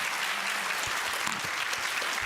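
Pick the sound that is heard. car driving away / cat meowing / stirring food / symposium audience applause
symposium audience applause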